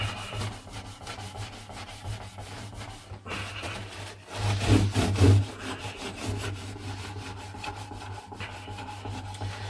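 Sanding or rubbing down an old 1970s acoustic guitar by hand, a steady close scratchy abrasion that runs throughout with a louder burst of rubbing midway and no talking.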